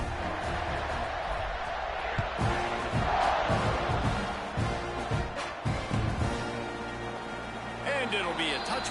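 Stadium crowd at a football game during a kickoff after a scoring drive, a loud, steady roar of cheering and shouting that swells in waves and never drops out, with voices mixed throughout.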